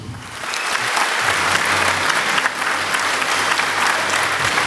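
A hall full of people breaks into loud, dense applause at a company anniversary celebration, the clapping swelling quickly and holding steady for several seconds.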